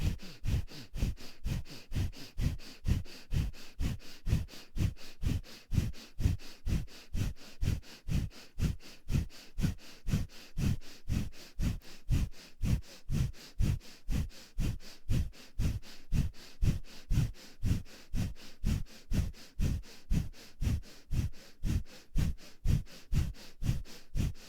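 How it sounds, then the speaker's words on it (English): Rapid, forceful yoga breaths through the nose, known as breath of fire, pump in a steady, even rhythm of about two sharp exhales per second for the whole stretch. Each huff is close and clear, with no talking. "breath of fire, stretch pose."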